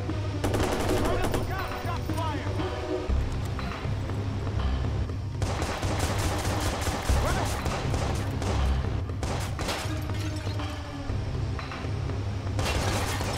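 Video game Watch Dogs on PC during an escape mission: repeated bursts of automatic gunfire and single shots crackle loudly in rapid, uneven volleys over a low rumbling background.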